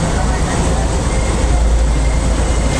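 A passenger train moving in Sri Lanka produces a loud, constant rumbling roar with heavy low-end wheel noise, heard from inside the carriage without pauses.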